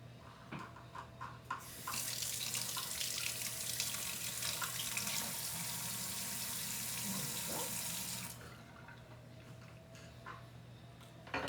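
A kitchen tap runs steadily for about six seconds as a raspberry is rinsed under it, a soft rushing stream with faint clicks and handling noises before and after.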